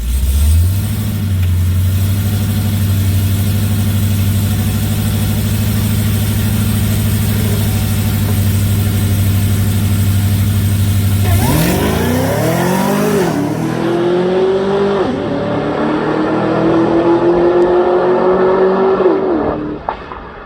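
A drag car holds a steady loud drone at 1500 RPM on the line, then launches with the engine climbing sharply through repeated upshifts as it pulls away, loud and close throughout.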